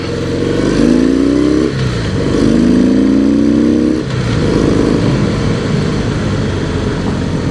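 A 2017 Harley-Davidson CVO Pro Street Breakout motorcycle accelerates hard, its loud engine note rising through two pulls with a shift between them, then settling into a steady roar with wind rush, heard up close.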